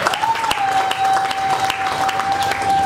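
A church congregation claps loudly and steadily in praise, a dense stretch of applause with a few sharper individual claps, while a thin sustained electronic tone hangs underneath.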